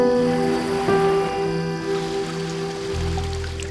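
Waves on Michigan water, a steady washing surf with a continuous hiss, joined by a low droning hum and tonal lines, holding an even, fairly loud level throughout with no voices.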